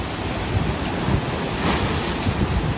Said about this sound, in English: Oh, look at this wave coming in.